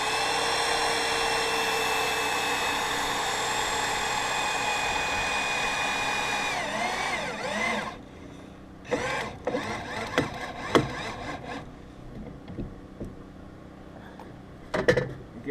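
Power drill driving lag screws into pre-drilled wood, a steady loud whine for about eight seconds, then a series of shorter bursts and clicks as the screw seats.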